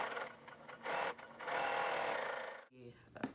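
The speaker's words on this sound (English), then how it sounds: "I'll just fold it right sides together and sew at the very edge." Sewing machine stitching along the edge of a fabric sleep mask, folded right sides together, in quick bursts of rapid mechanical whirring with short pauses, stopping abruptly near the end.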